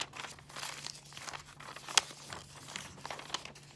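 Sheet of origami paper folded back and forth along a crease while making a whale, giving soft crinkling rustles with one sharp crisp snap near the middle, close and quiet.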